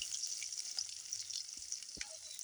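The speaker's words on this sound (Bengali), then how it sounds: "বন্ধুরা পেঁয়াজটা লাল লাল করে ভেজে নেব।" Chopped onions fry in hot oil for a fish dish, producing a soft, steady sizzle broken by a couple of quiet stirring taps.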